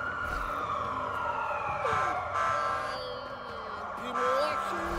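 Police car sirens wailing in Watch Dogs 2 as cruisers chase the player, a loud, continuous up-and-down siren tone over engine and traffic noise, with a voice talking over it.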